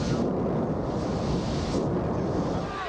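Wartime explosions at night outside Basra, Iraq, come through as a continuous low roar and rumble, steady and loud without distinct separate blasts.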